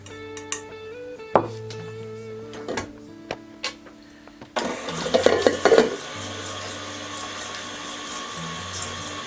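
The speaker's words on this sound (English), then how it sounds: "I'm going to cream that together with 1 cup of sugar" An electric mixer creams half a cup of softened unsalted butter with a cup of sugar, a steady whirring motor that starts midway and runs on, preceded by a few scraping and clinking kitchen sounds.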